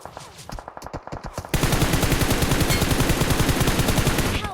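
Video game gunfire from a Turkish-language multiplayer match: a few sparse shots, then a loud sustained burst of rapid automatic fire, close and continuous until near the end.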